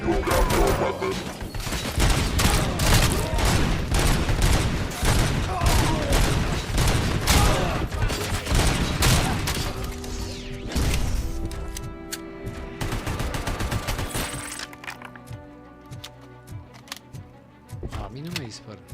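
Heavy, sustained bursts of automatic gunfire in the RoboCop video game, loud and nearly continuous for the first ten seconds, then thinning into scattered shots with voices talking in between.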